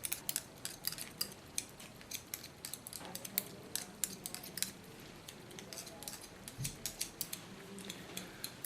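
Kione 7 hair-cutting scissors snip through wet platinum blonde hair during a pixie cut, a quick run of crisp, close metallic clicks and slices in an uneven rhythm with no talking.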